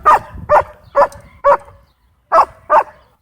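A dog standing in place barking at a dog park, six loud, close barks in a fairly even rhythm with a short pause before the last two.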